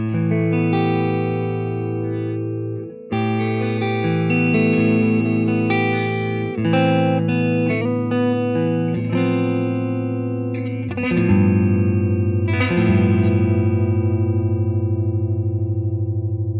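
Electric guitar strums sustained chords with a clean-to-slightly-driven amp tone, several chord changes ringing out close and loud, no talking.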